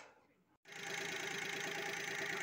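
Daewoo Tico engine idling during carburetor adjustment, a close, steady mid-pitched running hum that briefly cuts out and then settles into a constant drone, with no talking.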